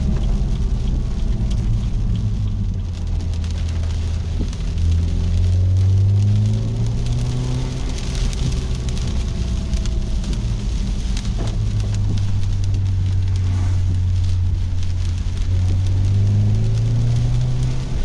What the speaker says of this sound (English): because it's raining